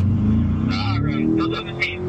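A car engine revs and climbs in pitch as the throttle is pushed on a race track, with voices talking over the rising drone for about two seconds.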